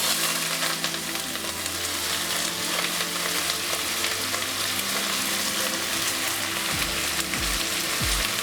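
Chopped onions fry in a pan for egg bhurji, giving a steady, even sizzle throughout with a faint low hum beneath and occasional soft knocks toward the end.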